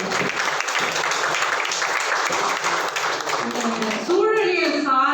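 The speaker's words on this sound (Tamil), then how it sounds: "ஒரு பெரிய கைத்தட்டல் கொடுங்க" Audience applause fills a large packed hall at an environmental book launch, a dense steady wash of clapping that runs loud for about four seconds before a voice rises over it near the end.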